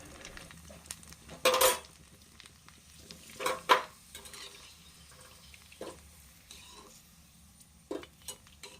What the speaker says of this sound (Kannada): ಇವಾಗ ಎಣ್ಣೆ ಕಾದೈತಿ ಈಗ ಒಂದು ಪೂರಿನೂ ಕರ್ಕೊಂಬಿಟ್ವಿ ಅಂದ್ರೆ ಪಾನಿಪೂರಿ ರೆಡಿ ಆಗುತ್ತೆ